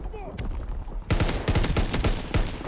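Rapid bursts of gunfire from Call of Duty WW2 multiplayer, loud and close: a short shot early on, then a dense run of repeated automatic fire with sharp cracks after about one second.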